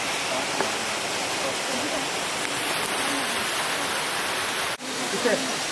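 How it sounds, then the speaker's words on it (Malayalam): A waterfall near Tiger's Nest Monastery in Bhutan, falling through a rocky gorge, rushes in a constant, full-bodied roar close by, broken by a brief dip before the steady torrent resumes. "ഈ വെള്ളച്ചാട്ടം ടൈഗർ നെസ്റ്റ് മൊണാസ്ട്രിക്ക് അടുത്തുള്ള പാറ ഇടുക്കിയിൽ കൂടെ വരുന്നൊരു വെള്ളച്ചാട്ടമാണ്"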